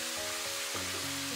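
Crabs tipped into a wok of chili oil and spicy sauce, a loud steady sizzle filling the short moment, close and unbroken, with no talk.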